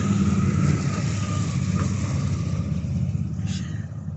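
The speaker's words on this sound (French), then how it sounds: "j'ai des motos qui passent derrière moi" Motorcycles pass behind an outdoor spot, a steady low engine rumble that slowly fades over a few seconds, with no talking.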